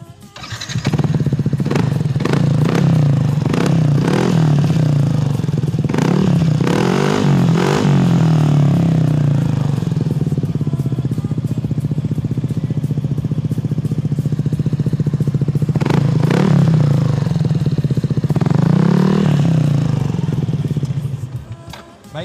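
A Yamaha NMAX scooter fitted with an R9 aftermarket exhaust, heard up close idling with a deep steady burble and several sharp throttle blips that rise and fall, loud throughout.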